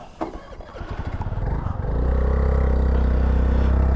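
Honda Navi motorcycle engine being restarted in cold weather: a brief cranking stutter, then the small engine catches and settles into a loud, steady idle close by.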